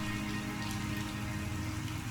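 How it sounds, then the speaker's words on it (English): Heavy rain pummels the cobbled city streets of the noir stealth game Calvino Noir, a steady dense hiss of downpour with no voices over it. "Biblical rain pummels the city, but the stains remain."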